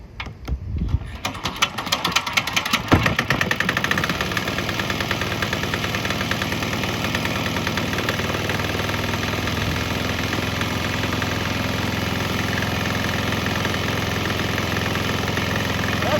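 A cheap Chinese diesel engine burning nearly straight canola waste oil starts up with uneven knocks, then settles into a steady, loud, close idling clatter with no talk.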